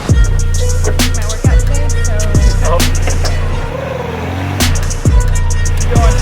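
A truck stuck off-road revs its engine repeatedly in loud, abrupt bursts that each fade away, with people talking nearby.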